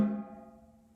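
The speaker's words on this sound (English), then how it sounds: "Now, when we turn the snares off, the snare drum would sound like this." A single snare drum hit with the snares turned off, a ringing, tonal body and no snare rattle, decaying gradually over a second.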